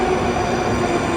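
Moscow metro train at a station platform: a steady, loud, dense rumble and rolling roar of the cars throughout, with no talk.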